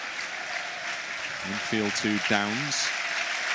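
A stadium crowd at a Southampton versus Leeds United football match applauds a Southampton player leaving the pitch, a steady broad wash of clapping from a large crowd throughout, with a commentator speaking briefly over it.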